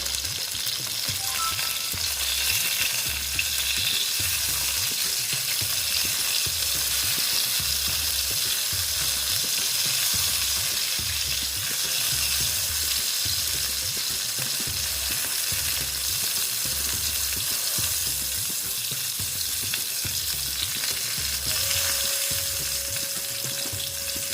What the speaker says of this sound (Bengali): আস্তে আস্তে এটা ভাজা হোক